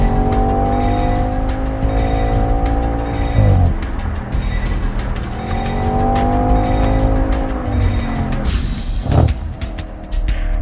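A 2014 Audi RS5 is driven hard on a wet track in the rain, its engine rising through repeated revving pulls between gearshifts, with a sharp tire squeal near the end, loud and close.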